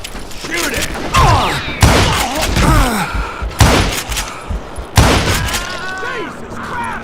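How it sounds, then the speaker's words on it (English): A Gatling gun in the Western shooter Call of Juarez lets off loud, repeated bursts of heavy shots mixed with sharp impacts and thuds, while voices shout over the barrage. "Kid Curry opened up on me with a goddamn Gatling"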